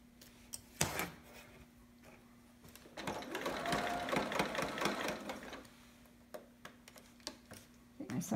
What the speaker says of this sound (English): my sewing machine needs to go in for some maintenance. It's acting kind of funny on me.